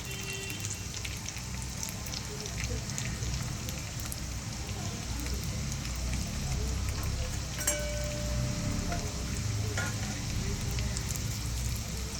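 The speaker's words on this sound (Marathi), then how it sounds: "पॅनमध्ये 2 चमचे तेल घेतलं. तेलावर आपण ह्या वड्या तळून घेऊया." Jowar flour and dudhi vadis frying in a couple of spoons of oil in a pan, giving a steady crackling sizzle throughout, close and even, with no one talking.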